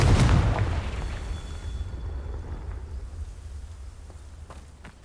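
A Confringo blasting spell cast in Hogwarts Legacy goes off as a loud, booming blast at the start, then rumbles and fades into a long low roar with a few faint crackles near the end.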